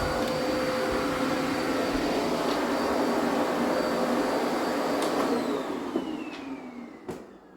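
A vacuum cleaner with reduced suction from neglected maintenance runs with a steady, strained whooshing roar, continuous and fairly close, fading somewhat at the end, with no talking.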